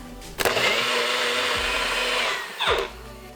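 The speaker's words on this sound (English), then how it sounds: "I'm gonna blend this." A kitchen blender whirs through a pimiento, red wine vinegar and olive oil dressing in one loud burst of about two seconds, starting abruptly and winding down at the end.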